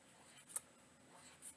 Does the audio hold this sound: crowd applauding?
no